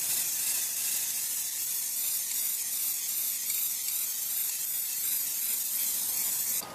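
Continuous loud hiss of spray primer from an aerosol can being applied to painted cardboard, a close and unbroken spray lasting several seconds with no talking.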